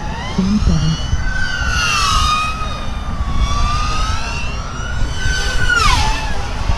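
FPV quadcopter drone fitted with Xhover 2307 2500kv motors flying at full throttle across a field, a loud continuous whine that rises and falls in pitch with sweeping swoops as the motors rev.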